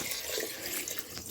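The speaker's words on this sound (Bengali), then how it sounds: "এবার আমি জলটা ঢেলে দিচ্ছি।" Water pours steadily into a pot of Bengali mutton pulao, a continuous splashing rush that runs the whole short stretch at moderate loudness with no talk.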